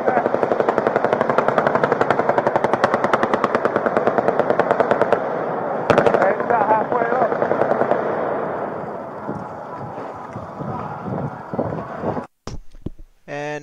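A rapid string of sharp gunshots fires in steady succession during the Las Vegas Harvest Festival shooting, then slows to scattered pops, with a few louder bangs near the end.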